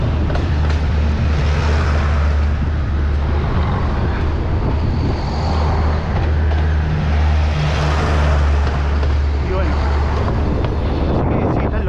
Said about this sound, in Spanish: Bueno, acá está. Los trenes nuevos.